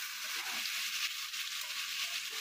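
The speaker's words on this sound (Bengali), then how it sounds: "দিয়ে এবার সমস্ত দিয়ে সুন্দর করে এখানে কষাতে থাকি" Mutton frying in a pan with chili, cumin and turmeric powders for biryani gives off a soft, steady sizzle, faint and continuous with no voices.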